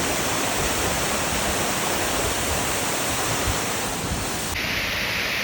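A waterfall in a forest in Thailand roars steadily and loudly throughout, a dense continuous rush of falling water with no voices over it.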